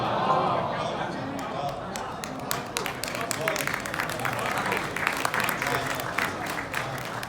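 Audience applause breaks out at a poetry mushaira in Chicago, dense clapping under a speaking voice, building and holding steady at moderate loudness.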